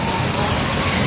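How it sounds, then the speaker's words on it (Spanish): A heavy downpour in Siloé, Cali, pours down as a dense, steady hiss of rain on surfaces, loud and continuous with no voices. "Entró la lluvia en Siloé,"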